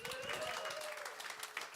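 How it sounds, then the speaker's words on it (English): Audience applause at a live music night in a venue, dense steady clapping from a crowd filling the room at moderate distance, continuous with no single voice standing out. "Let's have another round of applause."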